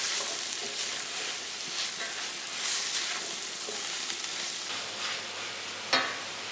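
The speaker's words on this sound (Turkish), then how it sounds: "Taze fasulyeleri kavurma işlemini gerçekleştireceğim." Fresh green beans sauté in a pan for a minced-meat bean dish, a steady close sizzle and crackle of frying with occasional stirring scrapes and a small clack near the end.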